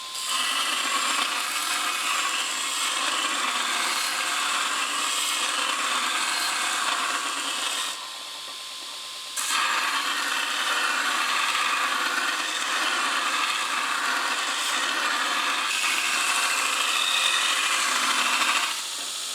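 An AmeriBrade 2x72 belt grinder grinds a piece of steel roughly 3/16 by 1 1/4 inches, giving a loud, steady abrasive hiss and rasp that briefly softens near the middle before resuming at full strength.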